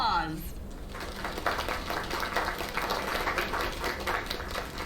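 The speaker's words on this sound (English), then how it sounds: "Another round of applause." A video game audience claps in a dense, steady patter that runs through the whole stretch, with a brief swooshing effect at the start.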